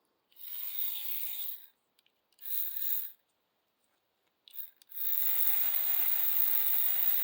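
A small HO-scale Tyco slot car motor with a new rear axle runs on a bench test, giving three high-pitched whirring bursts separated by short pauses, then a longer steady whine close to the microphone.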